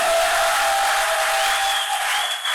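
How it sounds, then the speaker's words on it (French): Church congregation applauding loudly during a Sunday service, a dense steady wash of clapping that holds for the whole stretch and thins slightly near the end, with a faint whistle-like tone above it. "acclamer plus fort pour la gloire de Dieu"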